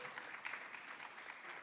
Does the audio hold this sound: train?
no